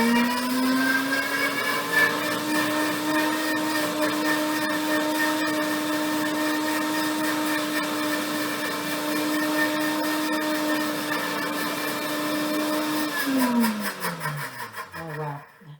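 A blender on a smoothie setting whirs steadily as it blends strawberries, a loud, sustained motor drone with a constant pitch that shifts and winds down near the end.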